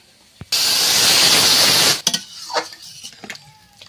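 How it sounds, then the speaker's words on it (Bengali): Water poured into a thick frying curry bursts into a loud rush of hissing steam for about a second and a half, then fades into clinks and stirring of the pot. "তরকারিটা কষাই করা হয়ে গিয়েছে, এবার জল ঢেলে দিচ্ছি"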